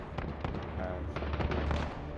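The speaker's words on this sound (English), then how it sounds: "Enemy cruise missile incoming." A cruise missile strike in a multiplayer shooter game, heard as a quick cluster of blasts and crackling impacts, moderately loud, with faint voices mixed in.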